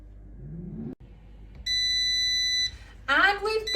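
An air fryer timer beeps a steady sustained electronic tone for about a second, at the end of a 10-minute cycle at 180 Celsius while chicken cordon bleu cooks, with a short whoosh before and a voice starting to talk right after.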